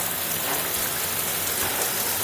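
Steady dense hiss of hot water falling from a rainfall shower head in a bathroom shower system, moderate pressure, a continuous rain-like spray heard close and alone.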